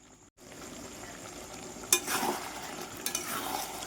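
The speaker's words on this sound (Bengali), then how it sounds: "অবশ্যই এইভাবে নেড়ে চেড়ে কষাতে হবে যেন কোনোভাবেই কড়াইয়ের তলায় লেগে না যায়" Mutton and spices are stirred and fried in a kadai, giving a steady scraping, sizzling texture with a few louder stir strokes near the end and no talking.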